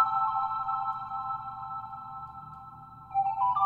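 A steady, bright synth tone holds for a few seconds, then a brief ping-like shift near the end, alone and fairly quiet.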